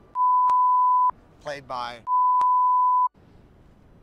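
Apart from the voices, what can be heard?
censor beep bleeping out a spoiler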